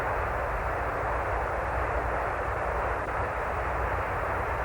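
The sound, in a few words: Apollo 11 lunar module Eagle descent engine running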